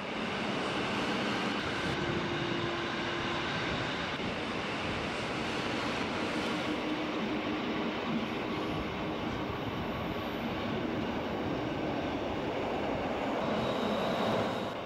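A Rhaetian Railway Ge 4/4 I locomotive and its train cross the curved 1902 Landwasser Viaduct, producing a steady, loud rolling rumble of wheels and track that runs unbroken throughout.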